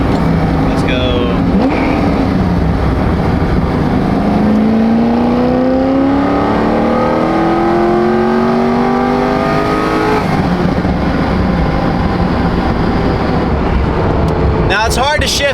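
A Corvette pulls hard through the gears, its engine note climbing in long rising sweeps that fall back at each shift and build again, loud and close throughout, with a voice talking over parts of the run.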